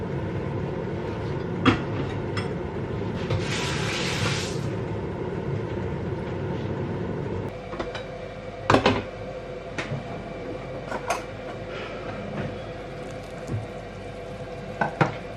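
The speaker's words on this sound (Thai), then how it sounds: "ต้มไปก่อนจ้ะต้มให้เปื่อยเนาะ" Pork cartilage boils and simmers in a pot, a steady close bubbling and hiss with occasional soft knocks and clinks throughout.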